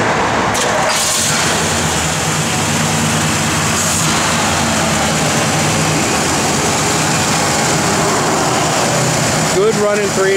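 1966 Pontiac GTO with its 389 engine running at a steady, close idle, a constant low rumble with a person briefly talking over it.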